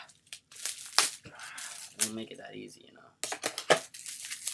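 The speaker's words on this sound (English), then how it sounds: "let's see if the scissors will help us with that" Scissors cut and crinkle through the plastic-wrapped packaging of a new deck of playing cards, with bursts of crackling close up, mixed with a person talking over it.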